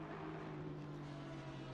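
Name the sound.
Aston Martin V8 engine in a sim racing video game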